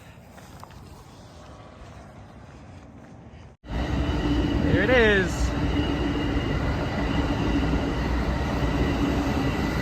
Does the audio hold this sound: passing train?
yes